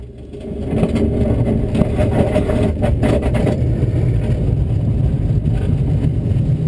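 A tow plane's engine throttles up steadily for a glider takeoff, a loud continuous roar that builds within the first second and holds level throughout, with no talking.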